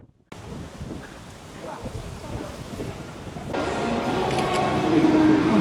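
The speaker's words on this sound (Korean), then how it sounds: "바람 많이 불긴 한다" Strong wind buffets the microphone outdoors, a loud rumbling roar that starts abruptly and builds steadily stronger over several seconds, with no clear speech.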